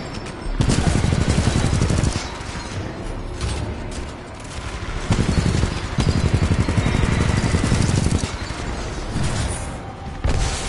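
Dense, sustained automatic gunfire from the shooter game Titanfall 2, loud and continuous bursts over roughly ten seconds, with brief dips between volleys.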